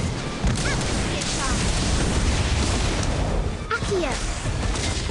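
A Confringo spell in the mobile game Harry Potter: Magic Awakened goes off as a loud, dense burst of explosive crashing noise lasting a few seconds, with brief whooshing sweeps and a voice speaking over it.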